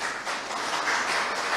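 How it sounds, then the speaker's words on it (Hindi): Audience applause at a police and social leader award ceremony, a brief dense patter of many hands clapping at moderate distance, steady and unbroken. "जोरदार तालियां हो जाए प्लीज।"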